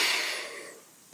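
One deep breath is drawn in during a relaxation exercise, loud and airy at first and then fading away, followed by a short faint sniff.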